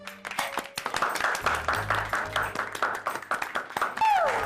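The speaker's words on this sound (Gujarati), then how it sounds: "જોરદાર તાળીઓ થઈ જાય" Audience claps after a woman sings a song on a televised game show, brief rhythmic clapping that sits under lively talk, with a rising tone at the end.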